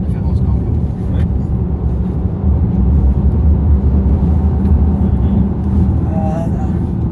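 Audi Q4 45 e-tron electric car driving in dynamic mode, a steady low road rumble and tyre noise filling the cabin throughout, with people talking over it.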